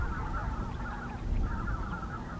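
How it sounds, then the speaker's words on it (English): A flock of snow geese honking in misty countryside, a dense chorus of overlapping calls at some distance over a low rumbling background, with no voices. "I could hear a flock of snow geese"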